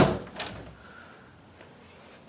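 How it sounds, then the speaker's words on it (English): A nicked and scratched master bedroom door is pushed shut during a house inspection, giving a soft close and knock near the start, followed by quiet room tone. "Shut the door."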